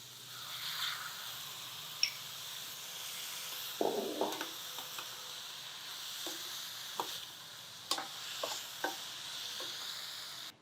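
Chopped tomatoes and onions frying in a pan as the base for a brinjal masala curry, a faint steady sizzle with a few soft stirring scrapes and clinks.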